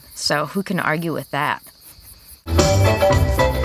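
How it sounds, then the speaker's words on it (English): Someone speaks briefly, then after a pause a steady, high chorus of crickets chirps loudly and continuously. "crickets chirping in the background"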